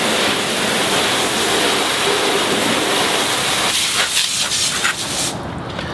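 A CNC-machined Fire Hose Ultimate Nozzle sprays a smooth, steady water stream over a car during a rinse, a loud continuous hiss and splash that shifts and spatters toward the end.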